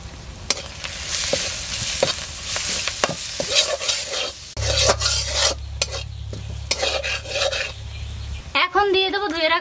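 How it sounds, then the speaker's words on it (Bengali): Lightly fried onions with turmeric, dry chilli and coriander powders and salt sizzle in a pan and are stirred with scraping, rasping strokes, with a low hum partway through and a brief voice at the end. "পেঁয়াজটা হালকা ভেজে নিয়েছি, এখন দিয়ে দেবো গুঁড়ো মশলা, হলুদ গুঁড়ো, শুকনো মরিচের গুঁড়ো, ধনিয়া গুঁড়ো, পরিমাণ মতো লবণ।"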